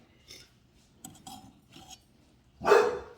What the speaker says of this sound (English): And there's my dog again.